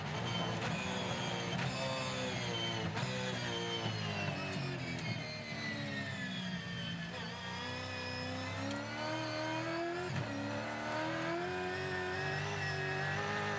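A V8 Supercar race car engine in a racing video game roars continuously, revving up and down through gear changes, loud and close with no voices.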